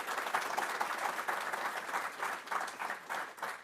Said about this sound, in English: So round of applause for her again.